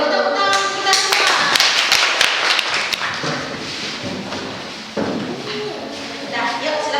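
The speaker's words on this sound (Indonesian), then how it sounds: "Tepuk tangan kita semua." Students clap together in a classroom, a loud burst of dense, sharp clapping that holds for several seconds, then thins and falls away around the five-second mark as voices talk over it.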